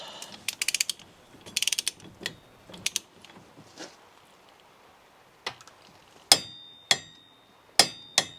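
A torque wrench tightens a nut on a Polaris Sportsman 800 ATV, giving bursts of quick ratcheting clicks followed by a few sharp, ringing metallic clicks near the end, close and fairly quiet.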